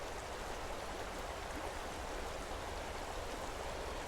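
A river flowing steadily, a constant broadband rush of water heard at a quiet, even level with no voices.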